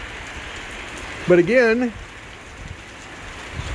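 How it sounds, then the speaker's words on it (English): Heavy rain falls steadily during a tornado near Stanhope and Jewell, a constant hiss of rain on surfaces; someone speaks briefly over it partway through. "You can see it's raining pretty good right now."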